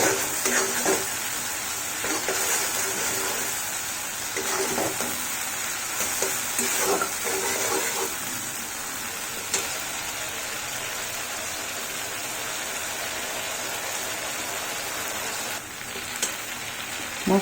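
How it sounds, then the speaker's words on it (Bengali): Spices sizzle and fry steadily in a pan with green chillies for a no-onion, no-garlic stuffed capsicum dish, a constant close crackling hiss broken by occasional stirring scrapes. "মশলা ভালো করে ভাজা হয়ে যায়।"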